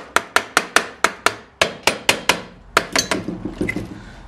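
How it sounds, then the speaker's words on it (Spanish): A rubber mallet taps on a part of a Start 5 motor engine being tuned, about twenty sharp knocks in a quick, steady run that speeds up and softens toward the end, close and loud. "sé que dándole unos golpecitos con un martillo de goma o algo así como esto, pues ya sale."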